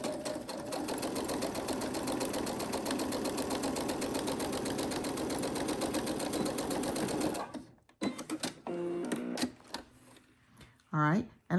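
A sewing machine runs fast and steadily, reverse stitching through key fob fabric, then stops abruptly at about seven seconds. A few scattered clicks and handling knocks follow.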